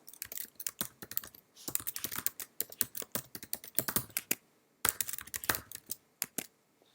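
Rapid bursts of keystrokes on a computer keyboard while filling in a sign-up form, uneven clusters of clicks with short pauses between them, close and clear.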